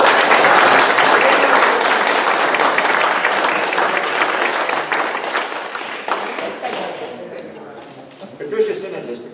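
Audience at a candidates meeting breaks into loud applause that gradually fades out, with talking and light laughter coming through as the clapping dies away.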